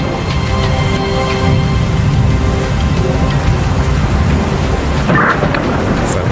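Heavy rain pours in a War Thunder air-combat scene, a loud, steady hiss that fills the whole stretch, with a brief brighter splash or thud near the end.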